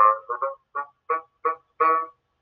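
Bassoon played in a short sequence of about seven separate reedy notes with brief gaps between them, close and clear with no talking.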